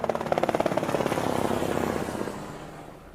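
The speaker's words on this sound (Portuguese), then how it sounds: "E aqui a gente ouve barulho de helicóptero." A helicopter passes overhead, its rotor thudding in a fast steady pulse that starts loud and gradually fades as it moves away.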